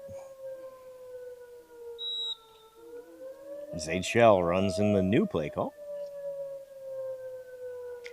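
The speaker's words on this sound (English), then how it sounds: "Sirens in the background here." A siren wails steadily in the distance throughout a junior varsity football game, with its pitch slowly drifting, while someone briefly speaks over it in the middle.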